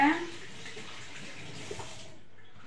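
Items being washed under a running kitchen tap while making ice cream, a steady broadband rush of water that starts loud and then settles into an even flow, with a brief clatter partway through.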